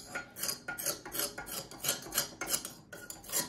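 Cast iron pellet stove burn pot on a Ravelli Francesca stove being scraped clean with a tool, a quick rhythmic series of close, gritty rasping strokes, about a dozen in a few seconds, with no talking.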